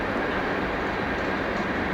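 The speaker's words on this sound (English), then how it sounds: "There's a train track about 100 yards to my east. Trains going by all the time." A train rumbles past on a railroad track about 100 yards away in cold, windy open country, a continuous broad roar with no pauses and no voices.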